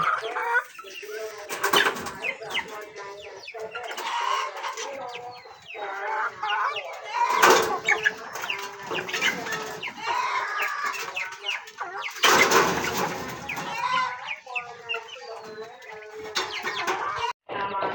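Poultry gobbling and clucking nearby, a busy farmyard chorus of repeated calls with a few louder bursts.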